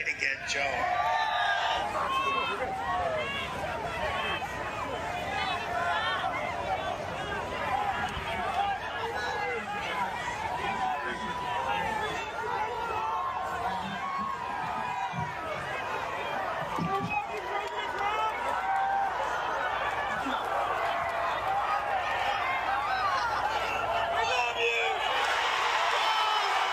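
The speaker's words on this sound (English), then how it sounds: "Listen to that crowd roar." A large political rally crowd roars, cheers and whoops continuously, a loud sustained wall of voices with no break.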